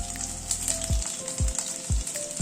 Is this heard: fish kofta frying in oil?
yes